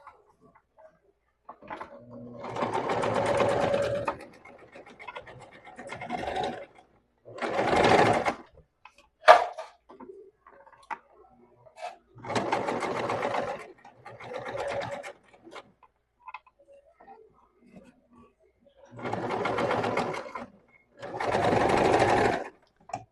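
Domestic sewing machine stitching a seam with a 1 cm margin, running in about six bursts of a few seconds each separated by quiet pauses, moderately close with a few faint handling clicks between runs.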